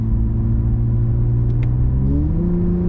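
A Toyota Camry XSE V6 engine revving steadily hard toward its redline of almost 7,000 RPM in a held gear, a loud close drone with a rising pitch near the end, no talk.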